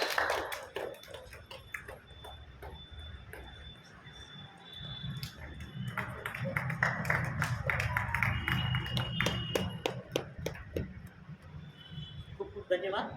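Audience applause welcoming guests at a Marathi book-introduction event, a sustained patter of many hands clapping that builds and holds under a speaking voice, moderately loud and fairly close.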